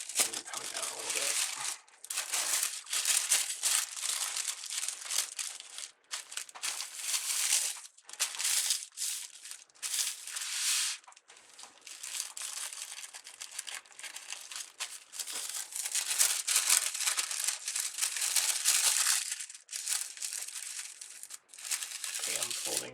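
Paper packaging folded around a calendar: continuous close crinkling and rustling with loud crackly stretches and short pauses between handling.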